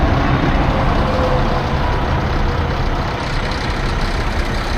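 A heavy tow truck's engine runs at a steady, loud low rumble close by during a box truck recovery, with no talking over it.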